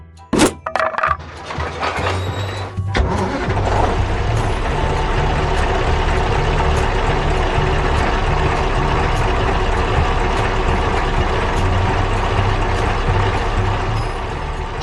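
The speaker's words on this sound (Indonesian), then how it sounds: "Truknya mulai melaju kencang." In a 3D animated construction scene, a truck hauling cargo pulls away. A sharp crack opens the sound, then a loud, steady engine rumble holds evenly as it drives off.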